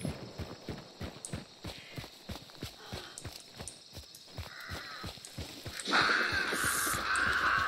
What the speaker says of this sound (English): Oh, that is a horse that is no ours.